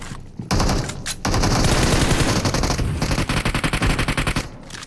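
Rapid automatic gunfire in the mobile battle-royale game PUBG Mobile: loud, sustained bursts of shots with brief pauses between them, close and dominant, no talking.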